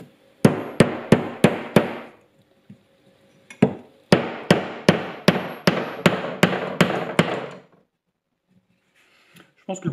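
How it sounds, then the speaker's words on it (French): A hammer drives a wooden handle into a Rinaldi axe head with sharp, ringing blows: a quick run of about five strikes, a pause, then a longer steady series of roughly ten, loud and close. "on va essayer de voir si ça rentre comme il faudrait avec le marteau"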